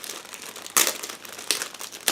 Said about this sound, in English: let's take a look at this small plastic bag with fuselage half and wing parts